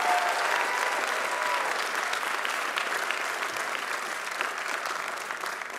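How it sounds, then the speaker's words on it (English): Sustained applause from a large audience at a law school commencement ceremony honoring the staff, dense even clapping from many hands, slightly tapering toward the end. "let's give our staff a nice round of applause"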